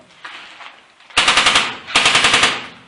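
An airsoft submachine gun fires two quick bursts of rapid automatic fire, crisp sharp snaps in fast rhythm, loud and close, with a short pause between them.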